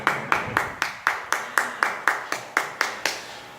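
A small lecture audience claps, as heard in the pauses of a Spanish-language conference: about fourteen sharp, evenly spaced hand claps, close and moderately loud, sounding like a single person or a few people clapping in steady rhythm.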